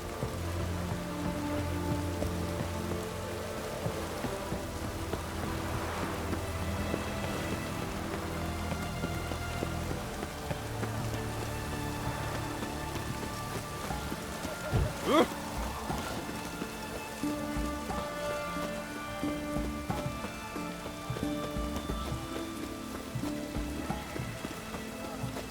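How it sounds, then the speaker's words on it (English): Rain falls in The Witcher 3 as a soft, continuous patter across the surface, low in level and steady throughout, with game music and other ambient tones layered underneath. "Looks like rain."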